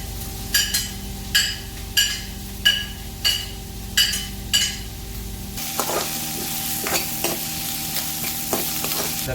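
Fish sarciado fries with garlic as the mix is stirred: a run of sharp, evenly spaced utensil scrapes against the pan over a humming background, then a softer sizzle with scattered lighter clinks.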